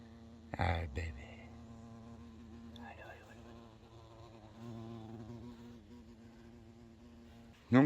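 Insects buzz steadily around a nest that is attacking beehives, a close, continuous drone with a few louder bumps and rustles.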